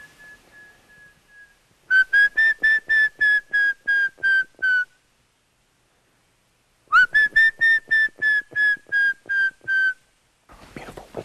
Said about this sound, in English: that's the call of a streak-chested antpitter